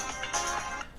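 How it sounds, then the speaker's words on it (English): A phone ringtone chimes briefly, a bright melodic electronic tone that rises for about a second, moderately loud and without talk. "That was my phone."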